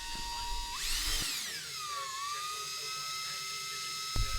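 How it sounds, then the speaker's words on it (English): A high-pitched power drill with a left-handed bit whines steadily while drilling out a stripped bicycle Allen bolt, its pitch rising as it bites under load then settling, with a brief clunk near the end. "I'm going to continue with my left-handed drill bit and try to get this guy out"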